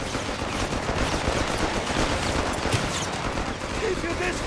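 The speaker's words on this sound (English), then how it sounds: "They're shooting at us!" Gunfire in the World War II strategy game Company of Heroes 3, dense bursts of rifle and machine gun fire crackling continuously with battlefield noise, loud and sustained.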